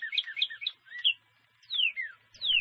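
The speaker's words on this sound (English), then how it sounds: "Have you heard chirping of birds early in the morning?" Small birds chirp and tweet in an early-morning setting, with quick bursts of high notes followed by a few longer descending whistles, fairly close and clear against a quiet background.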